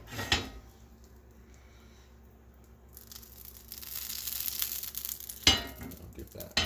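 Butter sizzles in a hot cast iron pan for pancakes: a low frying hiss that swells partway through, with a sharp clink of cookware near the end.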